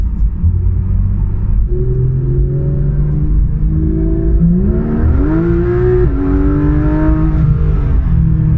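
A 2016 Porsche 911 GT3 RS engine revs and accelerates, a loud close drone with rising gear pitch, one shift, then a climb again, over a constant low rumble.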